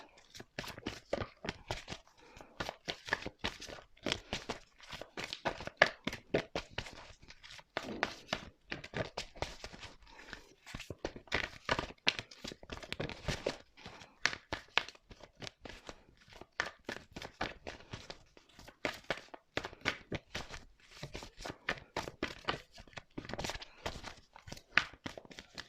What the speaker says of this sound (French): Donc là, on va prendre 3 cartes.